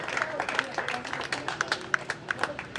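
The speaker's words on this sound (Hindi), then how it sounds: "आपकी जोरदार तालियों में" At a cricket festival prize presentation ceremony, a crowd claps unevenly, producing a scatter of sharp handclaps that rise and fall over a couple of seconds, while someone speaks over the clapping.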